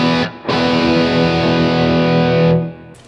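A distorted electric guitar rings out with sustained 1980s-style chords, drenched in heavy reverb that trails off briefly before another note starts, played alone.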